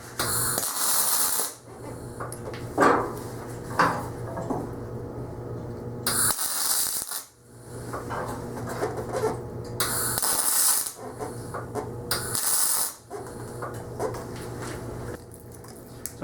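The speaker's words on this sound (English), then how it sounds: "let's weld her up" MIG welder joining an oil filter wrench, several bursts of harsh crackling buzz a few seconds long, separated by pauses, close and loud.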